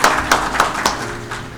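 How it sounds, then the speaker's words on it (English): A small meeting audience at an annual general meeting gives a few scattered, distinct claps close by, thinning out quickly into quiet room tone. "Can we all give a clap,"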